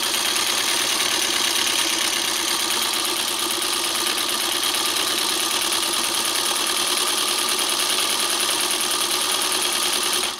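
A vintage sewing machine runs continuously close up, with a fast, even mechanical chatter and whir that holds steady throughout, no talking.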